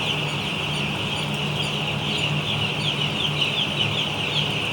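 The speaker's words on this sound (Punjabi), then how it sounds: "ਚੱਲ ਹੁਣ ਚੂਚੇ 2 ਫੜ ਕੇ ਅੱਗੇ ਰੱਖ" Young chicks at a poultry farm, a dense, continuous chorus of high peeping and clucking over a low background hum, steady and close, with no talking.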